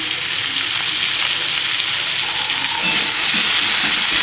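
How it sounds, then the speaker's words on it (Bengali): Potato and bitter gourd frying in hot oil with turmeric, a loud continuous sizzle and hiss that swells slightly partway through, with no voices. "আলু আর করলাটাকে একটু ভালো মতো ভেজে নেব হলুদ দিয়ে।"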